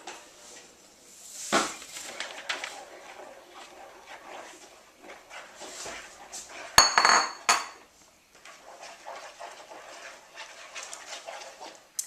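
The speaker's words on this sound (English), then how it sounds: "now I'm going to mix in the flours" Clattering of a utensil against a bowl as whole wheat and all-purpose flour are mixed into homemade pizza dough, with intermittent clinks and scraping, a sharper burst of knocks partway through, and quieter stirring elsewhere.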